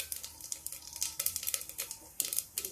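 Cumin seeds crackle and sizzle in hot oil in a pan while a dish of potatoes and peas is cooked, a close, busy spattering with repeated sharp crackles and no talk.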